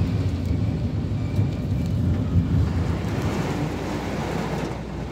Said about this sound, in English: Oh, that's thunder rolling.